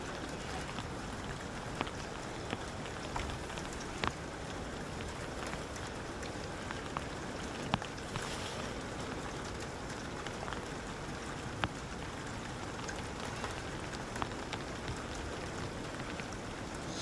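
Steady rain falls on a cold, rainy day at an outdoor soccer championship, making a continuous even hiss with faint scattered drips and ticks. No voices are heard.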